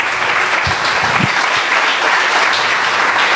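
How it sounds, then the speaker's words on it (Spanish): A church congregation claps loudly and steadily in a dense, sustained round of applause, with a few low knocks early on and no speech over it. "Denle un aplauso a Jesús"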